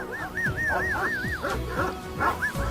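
Kangal shepherd dogs giving a run of yipping, whimpering barks, repeated in quick rising and falling calls, close and fairly loud with no speech.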